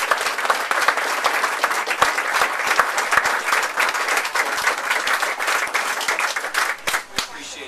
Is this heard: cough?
no